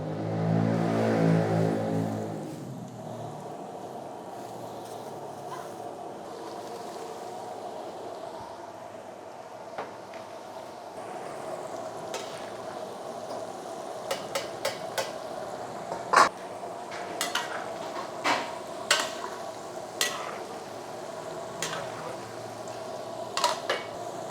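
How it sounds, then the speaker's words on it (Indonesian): Chicken karaage deep-frying in hot oil, a steady sizzling hiss running the whole time with a loud burst at the start and scattered clinks of utensils against the pan. "chicken karage-nya sedang dalam proses penggorengan"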